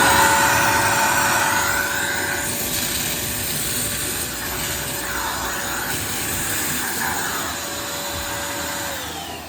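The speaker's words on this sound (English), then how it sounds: "that's why I use the wet vacuum machine here" A wet vacuum machine runs continuously while cleaning a Midea U-shaped air conditioner, giving a loud, steady whooshing drone with a sustained whine and slight wavering in level, with no talking.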